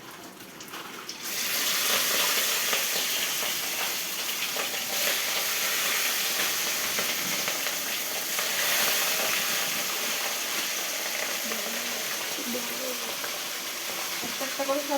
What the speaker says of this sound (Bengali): মাছটা আমি এখন তেলের ওপরে ছেড়ে দেবো